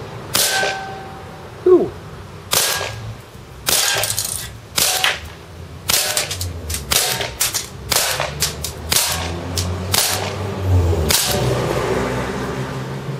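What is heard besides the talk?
KWC Desert Eagle CO2 gun shooting a can, semi-automatic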